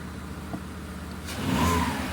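A Volkswagen Mk4 Golf engine idles steadily close by, then its note swells briefly as the engine is revved, settling back into a smooth, even hum.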